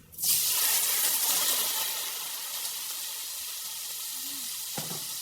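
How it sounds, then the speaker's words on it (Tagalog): Bean sprouts (toge) hit hot oil in a pan with a loud burst of sizzling that settles into a steady, close frying hiss, joined near the end by a brief stir, with no speech. "Ngayon, piprito na natin."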